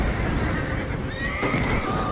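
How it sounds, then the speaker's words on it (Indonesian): Frightened horses in a stable whinny in a horror film scene, a shrill neigh rising over a dense rumbling background with a narrator's voice beneath. "yang membuat kuda-kuda semakin ketakutan."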